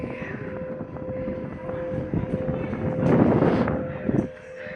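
Steady wind rushing across the microphone on a cool Diwali outing, a broad low rumble that swells louder for a moment before easing off, with no talking.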